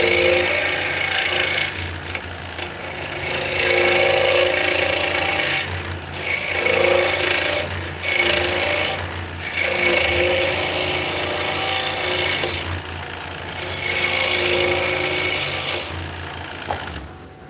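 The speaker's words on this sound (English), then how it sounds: "it's just a powered coping or fret saw" A powered coping or fret saw with a thin jeweler blade cuts wood, a buzzing rasp with a steady low motor hum, coming in several bursts separated by short pauses, no talking.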